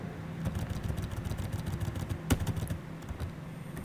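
Fast, irregular clicking of computer keyboard keys while a command is entered, with one sharper key strike midway, moderately close over a faint background hum.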